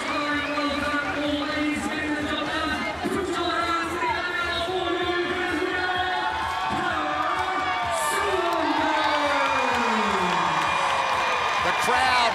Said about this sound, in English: The crowd getting behind Pacific champ